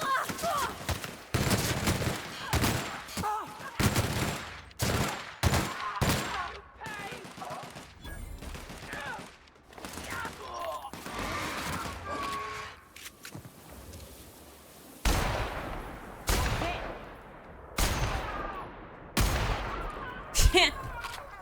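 Rapid bursts of video game gunfire crackle through a playthrough, dense repeated volleys and single loud shots spread across the stretch with short gaps, and a player's voice is heard in between.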